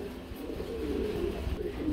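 A red Shirazi pigeon cooing, a soft low throaty coo rolling on for nearly two seconds against faint room background, no voices.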